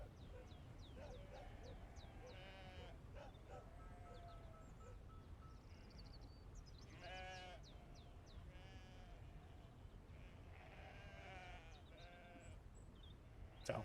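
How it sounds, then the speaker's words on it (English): Sheep bleating repeatedly in the ambient medieval town soundscape of the Dwarf Fortress video game, faint and distant calls coming in loose clusters over a quiet, steady background hum. "I think they're actually sheep. It's just medieval town noise generator."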